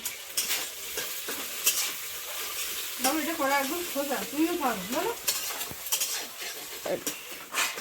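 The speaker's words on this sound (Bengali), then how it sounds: "ডিমটা আগে একটু ভেজে নিই একটু লবণ" An egg frying with salt in a pan, a close, steady sizzle under clinking utensil strokes, with a voice talking briefly in the middle.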